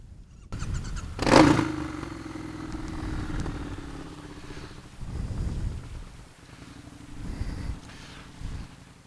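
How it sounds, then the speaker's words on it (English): A Triumph Bonneville T120 motorcycle with a Tec 2-into-1 exhaust revs in short bursts, then settles into a deep, throaty exhaust rumble that rises and falls without any speech. "we've got a little bit of a different exhaust note. It's very deep now."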